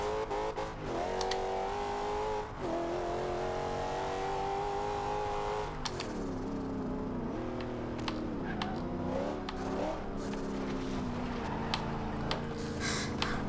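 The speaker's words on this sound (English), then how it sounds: "Just a little bit on the gas, and the turbochargers will just rattle at you" A 2015 Dodge Charger R/T in Forza Horizon 2, its engine droning steadily close by, with pitch rising and dipping through revs and gear changes and no voices.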